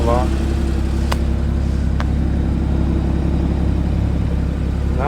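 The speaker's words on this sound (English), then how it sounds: "Got a Soul exhaust on it. Sounds really nice." A Guards Red Porsche Boxster Spyder fitted with a Soul exhaust idles steadily with a deep, even rumble, a couple of faint clicks breaking the constant note.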